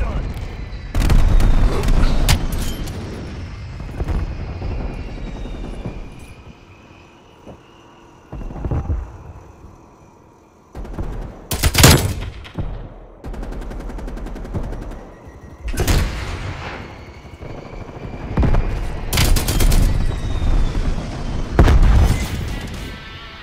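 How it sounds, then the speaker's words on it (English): Repeated booming explosions from a napalm strike in Call of Duty: Black Ops Cold War, loud bursts scattered through a dense, rumbling battle mix with gunfire and game voice chatter. "Deploy napalm strike on my grid."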